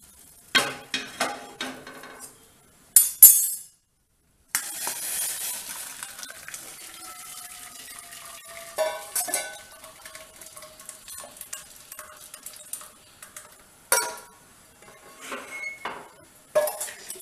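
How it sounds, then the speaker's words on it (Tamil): Cooked semiya carrot kheer shifted into another vessel: a run of clinks, scrapes and ladle knocks against metal pots, some sharp and close, with quieter stirring and pouring in between, no talk. "இப்போ நம்ம இதை வந்து பாத்திரத்தில் மாற்றிக்கிண்டுருவோம்."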